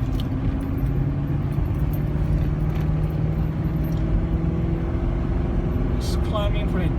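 Ford Expedition with a 4.6L Triton V8 climbing a hill, a steady low engine drone with road rumble held at an even pitch throughout, with a brief light jingle near the end.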